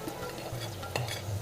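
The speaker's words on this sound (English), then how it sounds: "You hear the sizzle of the onions and the garlic cooking" Onions and garlic sizzle in oil in a pan, a soft steady frying hiss with a light scrape of stirring, close and quiet.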